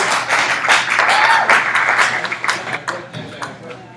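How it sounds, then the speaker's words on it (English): Audience applause at a live comedy show during a sketch festival monologue, a dense burst of clapping that fills the first seconds and then thins into scattered claps. "we give them a round of applause"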